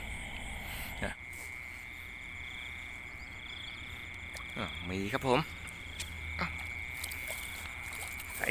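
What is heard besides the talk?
big frog croaking at night by the water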